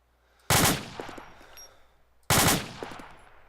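Two sharp, reverberant gunshots from the infantry combat game Arma 2 with the ACE mod. The shots land about two seconds apart, each trailing off in a rolling echo against a quiet background.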